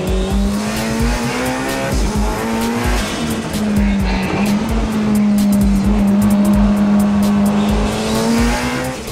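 A Mitsubishi Evo 9 time attack car with a big HKS T04Z turbo races hard on a circuit, its loud engine droning steadily while tires squeal through corners.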